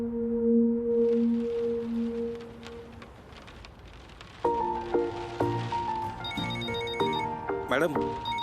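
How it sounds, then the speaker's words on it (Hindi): A phone rings with an incoming call in a school-life drama: a repeating electronic ringtone for a few seconds, then brighter melodic chimes. "मैडम, निक्सर का फोन आ रहा है।"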